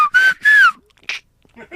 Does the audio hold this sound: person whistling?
yes